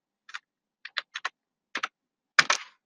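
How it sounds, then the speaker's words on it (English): Short bursts of computer keyboard typing, a few crisp key clicks in small clusters separated by quiet gaps, close and clear with no talk. "Similarly, if I type a title"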